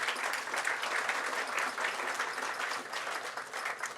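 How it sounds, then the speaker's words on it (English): A crowd claps in a steady burst of applause, dense and continuous throughout, without cheering. "I think that deserves a round of applause."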